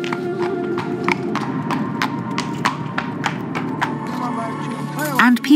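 Donkey hooves clip-clop on a road in the Siwa oasis, a steady, even trot of sharp taps over a constant low background murmur that sounds like faint voices.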